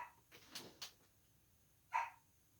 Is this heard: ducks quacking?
no